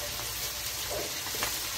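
Onion with ginger, garlic and cumin paste sizzling in hot oil for a biryani, a steady close crackle and hiss throughout with no voices.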